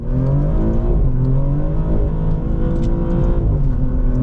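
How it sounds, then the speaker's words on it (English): A 2024 Maserati GranTurismo Trofeo pulls away, its engine revving up and down through several smooth rising surges, heard steadily from inside the car. "behind the wheel of the Maserati Granturismo Trofeo now"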